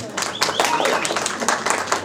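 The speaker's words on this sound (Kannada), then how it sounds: "ಜೋರ ಚಪ್ಪಾಳೆ ಬರಲಿ ಸೂತ್ರಧಾರ ಟೀಮ್ಗೆ" An audience at an event for the Kannada film Sutradhari applauds the film team, a steady crowd clapping heard nearby with voices and a brief whistle-like tone over it.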